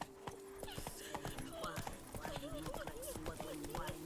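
In The Witcher 3: Blood and Wine, a horse runs with quick, steady clip-clopping hooves, accompanied by game sounds and someone talking over it.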